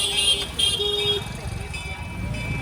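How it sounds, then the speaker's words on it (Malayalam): Car horns toot in short bursts on a busy street in Ahmedabad, a few honks near the start over a constant rumble of passing traffic and engines. "ഹോണടിച്ച് മത്സരിക്കും കേട്ടോ അവര്"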